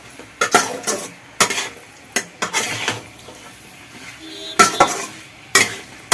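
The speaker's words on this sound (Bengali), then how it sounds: "দিয়ে এগুলো ভালো করে নাড়তে আর কষতে হবে।" Soybean chunks stirred with chilli powder in a hot pan: a spoon scrapes and clatters against the metal in repeated sharp strokes over a low sizzle, loud and close, with no talking.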